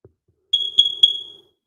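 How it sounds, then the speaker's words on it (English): A smoke detector alarm chirps three times in quick succession, bright piercing electronic beeps, clear and close with no talk over them. "What's with the smoke detector, brother?"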